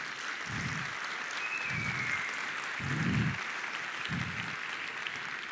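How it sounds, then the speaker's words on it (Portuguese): A conference audience gives continuous, moderately distant applause, with a few low rhythmic thumps beneath it. "Um salve de palmas para ele."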